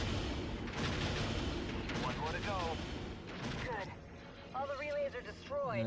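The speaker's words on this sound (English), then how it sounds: "we're just going to bomb the communications array. Each one of them takes 2 bombs." Bombs explode on a communications array in the video game Prisons of the Maw, a dense run of booming blasts and gunfire under continuous game action, with a voice talking over it throughout.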